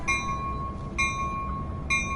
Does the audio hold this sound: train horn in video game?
yes